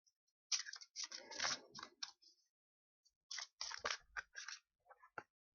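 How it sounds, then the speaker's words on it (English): A deck of tarot cards is shuffled in short, quick riffling bursts, with two clusters of crisp card flutters separated by a brief pause, close and alone without talking. "I'm shuffling these cards like horribly today."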